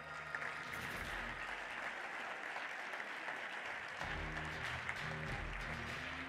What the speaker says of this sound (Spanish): Son Florencia Rodrigo y Virginia Villalba, para las cuales pido un aplauso también, por favor.